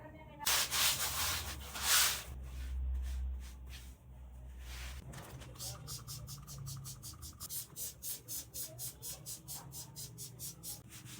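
Multi-purpose cleaner sprayed from a twist-nozzle spray bottle, a few quiet hissing bursts near the start, then soft scrubbing or rubbing strokes in a steady rhythm, faint and close.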